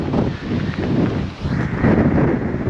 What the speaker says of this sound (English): Oh my gosh, it is so windy up here.